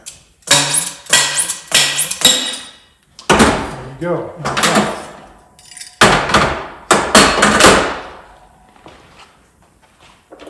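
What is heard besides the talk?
slide hammer knocking out fork seal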